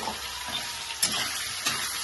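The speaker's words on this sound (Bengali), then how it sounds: "পেস্ট করে নিয়েছি কাঁচা লঙ্কা, 1 চামচ জিরে, 1 চামচ সরষে, এটা দিয়ে একটু ফ্রাই করে নেব।" Fish frying with a paste of green chilli, cumin and mustard, a continuous close hiss and sizzle with a couple of brief sharper spits.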